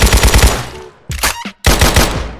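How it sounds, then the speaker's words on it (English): Submachine-gun fire in a video game rattles out in rapid, loud, close bursts, one long burst, a short burst, then another sustained burst after a brief pause. "SMG."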